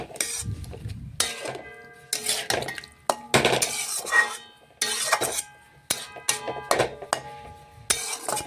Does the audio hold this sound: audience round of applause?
no